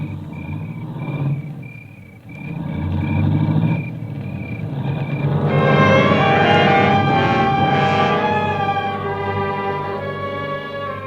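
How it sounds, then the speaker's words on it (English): A car engine starts and pulls away in an old-time radio suspense drama, the motor rumbling low then rising and droning steadily as it drives off, fairly loud and with no voices. "I heard the car leave, and I knew what it meant."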